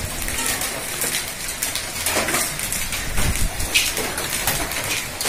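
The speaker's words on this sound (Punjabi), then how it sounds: "ਬਹੁਤ ਮੋਟੇ ਗੜੇ ਪੈਣ ਲੱਗ ਗਏ ਨੇ ਜੀ।" Heavy hail pelts down near Nabha in Patiala district, Punjab, a loud, dense clatter and hiss of stones and rain drumming on surfaces all around, with occasional sharper impacts.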